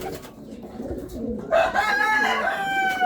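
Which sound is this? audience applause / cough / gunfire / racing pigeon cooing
racing pigeon cooing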